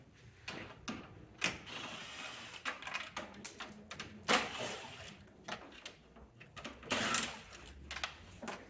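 T30 bolts are undone on a 2011-2017 BMW X3 F25 front bumper, giving quiet, close clicks, ratcheting and scraping in irregular bursts with faint handling noises between.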